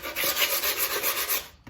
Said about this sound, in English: So you just need to sand a little bit on the edges.